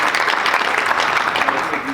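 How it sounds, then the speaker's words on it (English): A boxing press audience applauds after a fighter's victory, with loud, continuous, dense clapping filling the whole short stretch. "we should have a round of applause for George Kambosos after what was a tremendous victory"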